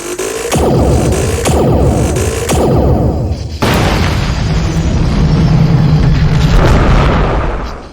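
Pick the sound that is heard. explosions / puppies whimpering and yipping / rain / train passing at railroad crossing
explosions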